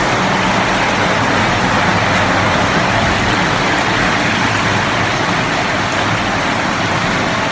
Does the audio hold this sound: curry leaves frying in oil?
no